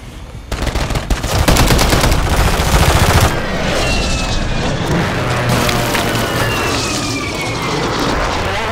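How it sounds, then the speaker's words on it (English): In Call of Duty: Warzone, an airstrike unleashes a loud, rapid stream of gunfire for a few seconds, then gives way to a sustained roar of explosions and passing aircraft that lingers to the end. "Friendly airstrike in the AO."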